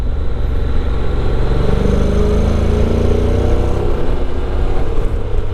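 A Honda NC750 motorcycle with a DCT gearbox, heard while riding, gives a steady, loud engine drone with constant wind rush, held at an even pace with no shifts or talk.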